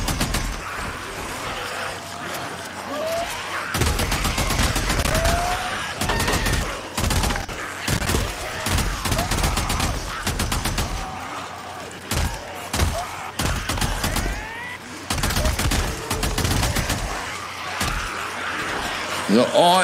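Rapid volleys of gunfire in the Days Gone video game, with dense bursts and pauses throughout and someone talking excitedly over the shooting.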